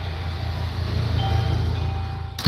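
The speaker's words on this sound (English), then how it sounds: "the rumbling, that's a vehicle out here" A loud, low, steady rumble from a vehicle outside a building, constant throughout and ending in a sudden bump.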